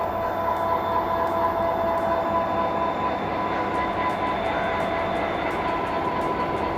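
Rehman Baba Express train passing Landhi station in Karachi, a loud continuous rumble of wheels and carriages with faint high-pitched squealing tones and rhythmic clacking throughout.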